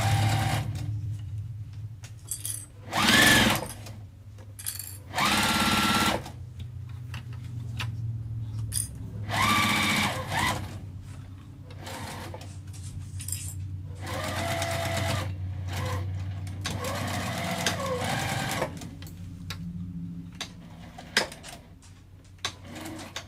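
A sewing machine back stitches through vinyl along the seam allowance of a wristlet, running in repeated bursts of steady stitching separated by short pauses, with light handling noises between runs and no talking.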